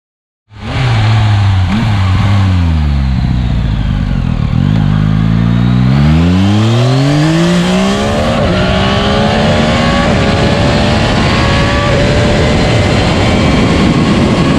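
A 2024 Yamaha MT-09 motorcycle with a quickshifter starts abruptly and pulls hard, its engine note climbing through several rising sweeps with gear changes. The sound is loud, close and continuous, with no talking.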